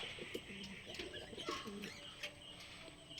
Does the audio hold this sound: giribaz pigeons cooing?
yes